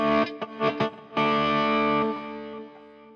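A distorted electric guitar lead tone through a Fractal effects unit: a few short picked notes, then one long sustained note that rings out and slowly fades. It is close and loud, with no talking.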